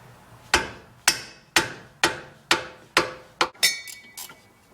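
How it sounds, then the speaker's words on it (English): A hammer pounds on a wrench to loosen a bolt on the rear axle assembly of a 1994-2004 Ford Mustang SN95, eight sharp metallic blows at a steady rhythm, each ringing briefly, close and loud. "wrench on here and pound on it to loosen it"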